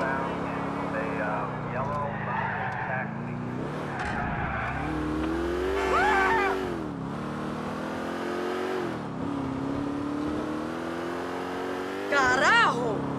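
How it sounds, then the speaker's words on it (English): A car driving in GTA The Lost and Damned, its engine droning steadily throughout with revving surges and brief tire squeals, heard under continuous in-game dialogue. "You drive good, Johnny."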